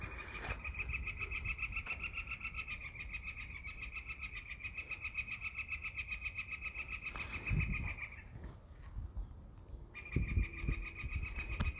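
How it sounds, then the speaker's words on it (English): Crows call back and forth in an upland forest, a run of steady harsh repeated calls carrying at mid distance, with a pause and then renewed calling near the end. "the crow is having a discussion"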